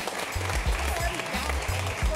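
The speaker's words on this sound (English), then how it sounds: "give a nice warm round of applause to Craig, Kate, and Nick" A crowd applauding, a steady wash of clapping heard close, with a low rumbling hum underneath.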